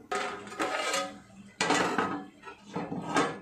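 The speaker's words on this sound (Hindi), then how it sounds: "अब ये अच्छी तरह से ढक के रख देती हूँ।" Metal lid set and shifted onto a pot of cooking dal pitthi, a few close clanking, scraping knocks in three clusters.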